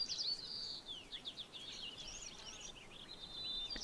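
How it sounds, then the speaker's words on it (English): Small birds twitter and chirp outside in a city, a busy cluster of bright overlapping calls near the start and end with softer trills between, faint and distant over a low hiss. "The birds."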